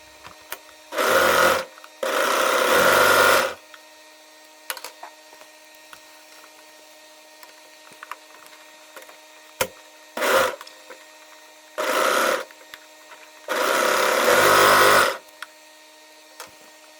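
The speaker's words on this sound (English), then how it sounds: "finish the waistband with a zigzag stitch or overlocker" A sewing machine zigzag stitching the waistband of a pair of jeans, in four loud runs of rapid mechanical stitching of varying length, separated by quiet pauses with faint clicks and handling sounds.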